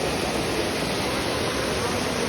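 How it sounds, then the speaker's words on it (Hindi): Waterfall at Neer Garh near Rishikesh, a loud, steady broadband roar of falling water that holds constant with no pauses. "कितने प्यारे प्यारे झरने हैं।"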